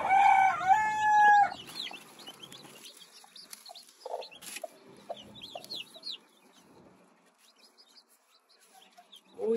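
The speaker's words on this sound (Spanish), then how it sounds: "Este otro se escucha pollito también." Newly hatched chicks give a few high, thin peeps over quiet background, with a louder rooster-like call near the start and another brief call at the very end.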